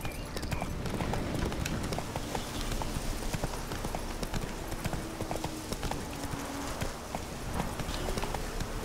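Rapid clip-clop of horse hooves at a steady galloping rhythm in The Witcher 3: Wild Hunt, close and continuous, with faint ambient noise behind.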